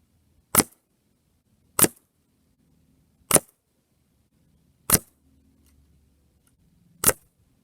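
Beeman Commander air rifle firing Ruger Super Point pellets of about 17 grain, five sharp isolated shots spaced roughly one and a half seconds apart in near silence, close and crisp.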